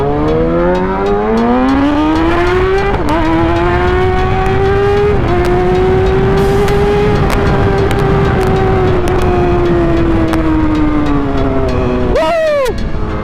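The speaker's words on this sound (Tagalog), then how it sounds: "Pinakamaingay na ZX6R sa buong Pilipinas." Kawasaki ZX6R inline-four sport motorcycle racing through the streets of Tondo, a loud high-pitched engine scream climbing through the revs with quick gear shifts and a sharp rev blip near the end, close and continuous.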